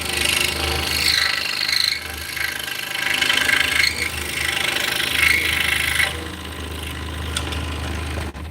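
A scroll saw cuts through wood in a continuous, close buzzing rasp with the motor's steady hum beneath, the cutting tone shifting as the blade works and easing to a quieter run near the end.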